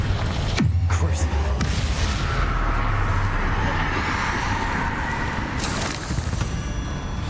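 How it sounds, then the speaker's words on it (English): Explosions boom and rumble in the Hogwarts Legacy video game, a loud sudden blast followed by sustained crashing debris and another burst near the end. "Everything's like blowing up in here."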